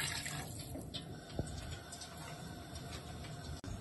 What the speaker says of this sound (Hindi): पानी मैंने डाल दिया तो ये बस उबल जाएगा